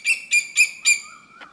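Birds calling in Benjakitti Park, a city forest in Bangkok, Thailand: four bright, close whistled chirps in quick succession, then a lower fainter call, with no talking.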